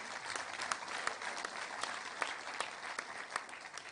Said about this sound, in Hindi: मैं चाहूंगी कि एक बार जोरदार तालियां अपने लिए बजाएं।